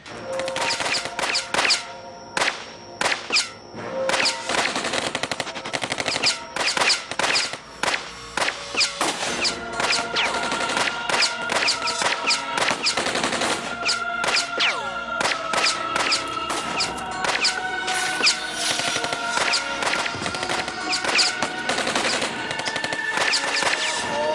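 Sustained automatic gunfire during a jungle attack, with dense rapid bursts and scattered single shots rattling almost continuously, loud and close, with brief gaps between volleys.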